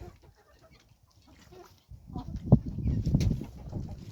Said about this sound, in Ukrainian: Качечки водичку п'ють бентамочки.